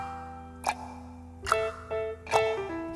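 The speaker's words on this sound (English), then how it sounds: "If you listen close to grandfather clock, you can hear him tick" Grandfather clock in a children's song, with a few spaced clicking ticks over sustained musical tones.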